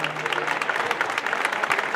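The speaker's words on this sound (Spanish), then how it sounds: "Un aplauso fuerte, este club," An audience at a club awards ceremony applauds, steady dense clapping from a crowd, moderately distant and continuous throughout.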